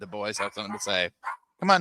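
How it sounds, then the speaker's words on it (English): Several dogs bark and yip indoors in short, bright bursts overlapping with a voice talking close by, the barks loud and clustered in quick succession. "if you can hear all the dogs barking"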